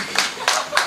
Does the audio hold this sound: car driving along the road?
no